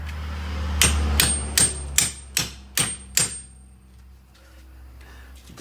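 Hammer taps a rear upper control arm bolt into place on a Buick Enclave, Chevy Traverse or GMC Acadia; six sharp metallic strikes land in a steady rhythm, close and clear, then stop.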